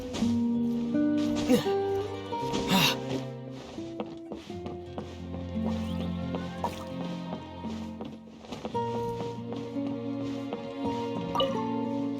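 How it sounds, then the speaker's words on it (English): Water droplets drip in the video game Genshin Impact, sounding as a few soft, scattered drips mixed into steady melodic background game music. "it sounds like a water droplet is on the second floor"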